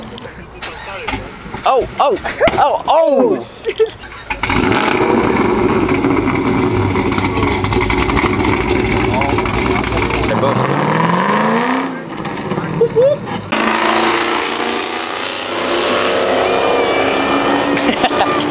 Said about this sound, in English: Let's hear the cam start up